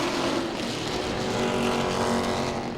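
Grand Stock race cars at Langley Speedway, a dense continuous engine roar as a car nearly stops and then gets back on the gas, loud and steady throughout.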